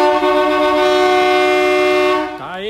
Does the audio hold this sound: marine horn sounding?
yes